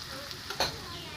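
Finely chopped onions hit hot oil in a pan for chicken pulao, giving a brief, faint sizzle with a soft stir in the middle.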